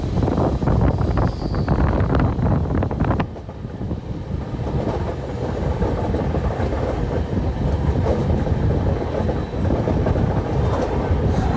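A passenger train near Madgaon railway station rumbles loudly with rhythmic clickety-clack from its wheels, and wind buffets the microphone throughout.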